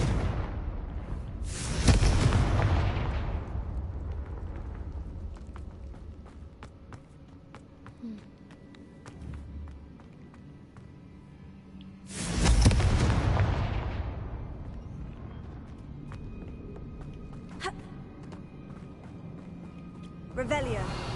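Confringo spell explosions in Hogwarts Legacy, with two loud booming blasts several seconds apart, each one decaying into rumble and crackle, while a player talks between them.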